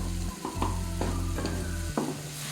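Chopped onion pieces frying in oil in a pan while chana masala is being cooked, with a steady close sizzle and a few stirring scrapes. No voices are heard.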